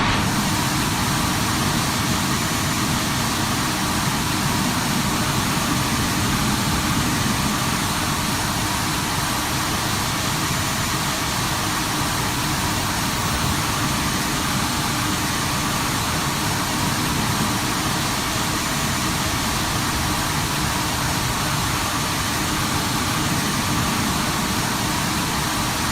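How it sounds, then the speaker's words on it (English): An Airbus A350 engine in Microsoft Flight Simulator 2024 starting and idling, a loud, steady, broadband roar and whine that holds unchanged and uninterrupted throughout. "let's go with engine number 2 start"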